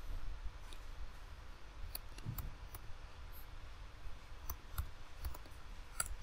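Faint, crisp computer mouse clicks while renaming a layer in architectural floor-plan software, several scattered single clicks over a steady background hiss.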